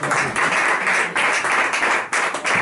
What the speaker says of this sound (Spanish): Fuerte aplauso a Juan Román, por favor